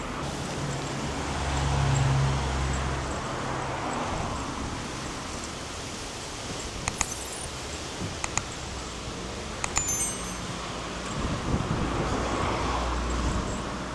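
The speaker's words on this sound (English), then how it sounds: "they did say it was going to be quite windy today, and it certainly is" Strong gusting wind from Storm Therese roars steadily across a road near Playa de Las Américas in Tenerife, with scattered faint clicks and knocks in the broad rushing noise.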